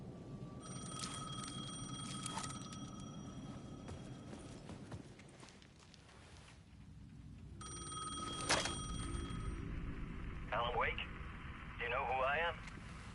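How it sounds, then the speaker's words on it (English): A telephone rings in Alan Wake 2, two bursts of bright electronic ringing with a rumbling background and a warbling tone near the end. "I needed to answer the phone."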